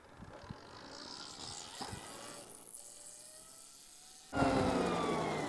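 A Stark Varg electric dirt bike pulls away on a ride, its motor giving a faint rising whine that grows suddenly louder and closer near the end.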